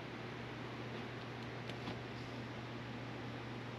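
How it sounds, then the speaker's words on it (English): Steady broadband whooshing of electric fans running with a low hum underneath, constant and unbroken throughout. "so we have lots of fans running"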